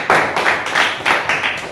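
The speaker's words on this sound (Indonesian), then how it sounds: "Untuk kelompok 2 tepuk tangan dulu." Group clapping in a classroom for a student group, a few seconds of fairly loud, rhythmic hand claps in pulsing bursts, with no talk over it.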